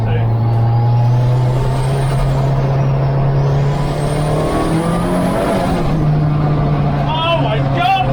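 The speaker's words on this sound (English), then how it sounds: "Oh my god, the gear change!" A 600bhp racecar on a shakedown run, heard as a loud, continuous engine drone from inside that climbs steadily in pitch as it accelerates, then drops sharply at a gear change, with an excited voice talking over it.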